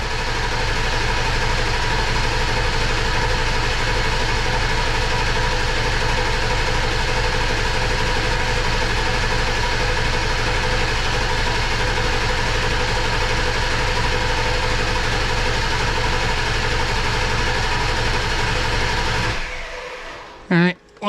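A 2002 Ford 7.3 Powerstroke diesel turning over on its starter, a loud, steady mechanical churn held for about nineteen seconds before cutting off abruptly, followed by a brief thump.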